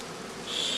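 Honey bees at a traditional woven basket hive hum in a close, steady buzz that grows a little louder and higher toward the end of a very short moment.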